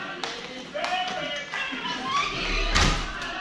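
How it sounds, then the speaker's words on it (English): A door is shut and locked at home, with a few dull thumps and a sharper knock of the latch amid rustling, while someone talks over it. "Why are you locking the door?"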